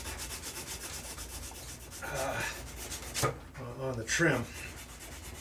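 Hand sanding old varnished and stained wood trim with angled contour sanding grips and pad from Rockler, a close, steady rubbing scrape in repeated strokes, with brief speech breaking in.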